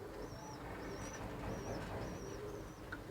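Pigeons cooing in a rooftop loft at a Khulna pigeon market, soft repeated coos over a murmur of background noise, fairly faint and steady, with occasional higher chirps.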